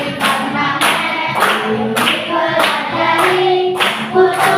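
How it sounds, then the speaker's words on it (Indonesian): Rhythmic hand clapping by a class of students, steady repeated claps over a busy room with voices singing or talking along. "Ya, kami tepuk tangan."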